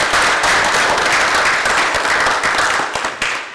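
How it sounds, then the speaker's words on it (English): Audience at a city council meeting applauding high school contestants as they come forward, a loud dense round of clapping that holds steady, then thins and tapers off near the end. "Let's give them a round of applause as they come up here."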